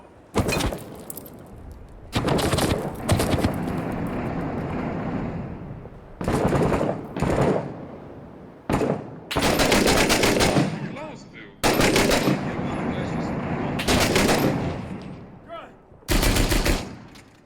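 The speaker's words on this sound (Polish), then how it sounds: "strzały z budynku" Repeated long bursts of rapid automatic gunfire from a building in the video game Six Days in Fallujah, loud and close, separated by short pauses.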